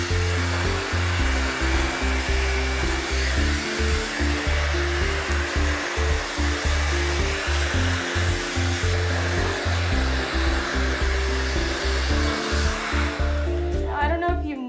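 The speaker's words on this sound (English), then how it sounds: "So first I'm going to start with rough drying your hair." A hair dryer rough-dries a person's hair with a loud, steady blowing roar and pulsing fluctuations as the airflow shifts against the hair, running close and continuous the whole time.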